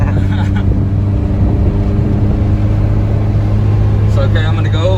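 A K24-swapped Toyota MR2 Spyder drones steadily on the road, a loud low engine hum and road rumble heard from inside, with people talking over it.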